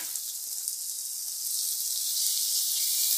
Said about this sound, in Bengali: রসুন ভাজা ভাজা হয়ে গেছে